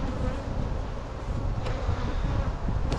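Honey bees swarm in a dense, continuous buzz over an open hive with frames of emerging brood, loud and close with no talking.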